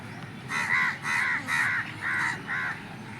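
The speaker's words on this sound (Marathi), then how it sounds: "कावळे सुद्धा बघायला आलेत कॉम्पिटिशन आज शंकर भाऊची." Crows caw in a garden, five loud harsh calls in quick succession close by over faint background noise.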